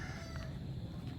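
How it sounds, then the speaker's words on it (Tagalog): Chickens scratching for food near a rural house give faint, brief clucks over a low background murmur, heard from a short distance. "Mga manok nga nagakutkot."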